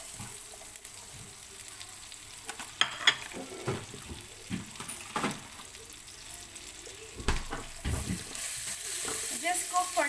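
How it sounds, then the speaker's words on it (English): Garlic sizzles and crackles in butter in a pan for fried rice, moderate and steady, with occasional stirring scrapes and clinks. "Then we can put our garlic."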